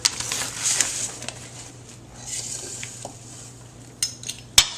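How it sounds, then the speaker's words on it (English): A spoon scoops food product out of a bowl while food is portioned for vacuum sealing, giving light scraping and a few sharp clinks of metal on the bowl, with a steady low hum underneath. "Kind of just add some more product with the spoon, which she's doing now."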